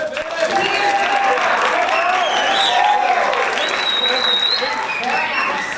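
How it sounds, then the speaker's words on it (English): An audience at a high school jazz concert applauds a performer, a loud, dense wash of clapping that holds steady throughout, with scattered cheers and voices mixed in. "Huge round of applause, please, for Kevin."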